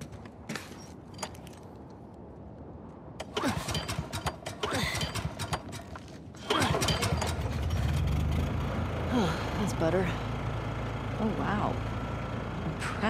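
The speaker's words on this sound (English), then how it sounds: "Hey, found his generator." A generator in The Last of Us Part II kicks on partway through, its steady mechanical engine hum rising abruptly and running loud and continuous to the end after quieter ambient game sounds and footsteps.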